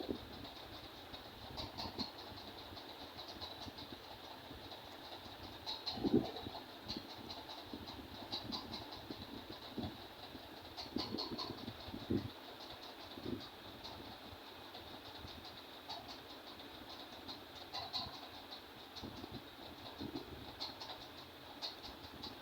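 A sewing machine stitches a kameez neckline in quiet, rhythmic runs of rapid clatter with brief pauses between bursts.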